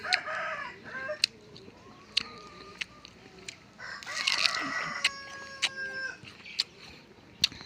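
Chickens cluck and a rooster crows in a farmyard, with several sharp clucks spread out and a longer crowing call near the middle, all moderately distant over a quiet background.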